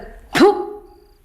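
A dog in a Telugu film scene lets out a single sharp bark or yelp that trails off quickly, close and clear with no other sound around it.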